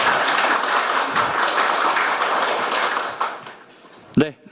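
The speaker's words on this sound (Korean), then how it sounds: "박수 부탁드리겠습니다." Applause fills a Korean National Assembly forum hall, a dense, steady clapping from the audience that fades away, followed by a brief voice.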